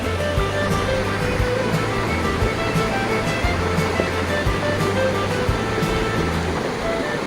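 Water from a waterfall at Cherrapunji pours down a cliff, making a steady, dense rushing roar with no breaks, loud and continuous from start to finish.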